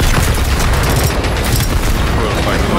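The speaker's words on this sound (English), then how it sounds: "I spawned in and I hear explosions" Dense, continuous rumble of explosions and heavy gunfire from a Generation Zero firefight, loud and unbroken throughout with a faint voice underneath.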